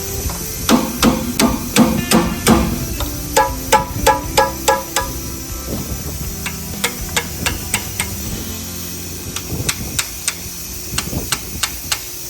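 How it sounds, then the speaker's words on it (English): Sharp metallic hammer taps on the valve spring retainers of an AMC Rambler wagon engine ring out in quick bursts, a rapid series of strikes, a pause, then another run of taps, close by. "Probably going to have to tap on those with a hammer"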